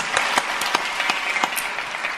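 Applause from a church congregation at a Korean evening worship service, welcoming a guest speaker: steady, dense clapping with a few sharper claps standing out, with no talk over it.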